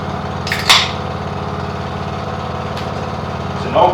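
A vintage Shopcat Mighty lawn mower engine runs steadily while mowing a junkyard, a close, loud, continuous drone with a couple of brief clanks over it.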